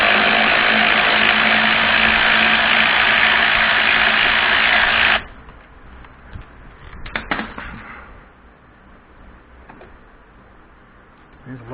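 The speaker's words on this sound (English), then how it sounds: "we have just regular ratchets and extensions, and also this electric ratchet, which will be nice" An electric ratchet whirs loudly and steadily for about five seconds while removing a brake caliper bolt on a Honda VTX1300S motorcycle, then stops, followed by faint clicks and handling noises.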